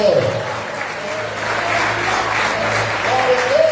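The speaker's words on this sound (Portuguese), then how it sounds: "Aplaude mais uma vez o nome do Senhor." A church congregation at a Sunday service claps together in sustained, fairly close applause, with voices and some tonal sounds mixed in.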